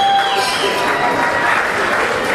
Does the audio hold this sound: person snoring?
no